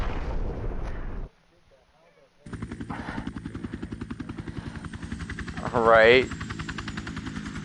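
A helicopter in the Resident Evil video game throbs with a steady, loud rotor chop, broken off briefly and then resuming under a short burst of gunfire or a whine. A brief spoken word is heard.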